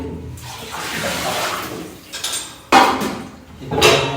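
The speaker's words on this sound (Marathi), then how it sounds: "आता मी भांडी धुवून घेते" Dishes clink and clatter while water sloshes and splashes, with a couple of louder clanks as pots are handled close by.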